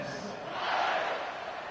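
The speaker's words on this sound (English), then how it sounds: "this crowd is buzzing after that last score" A college football stadium crowd in NCAA 26 after a score, a steady broad roar that swells slightly in the middle of the clip and holds at a moderate level.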